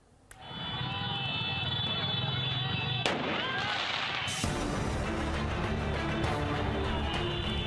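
Fireworks bursting during a street clash between two mass organisations, a sharp crack followed by sustained loud crackling and booming with a constant noisy backdrop.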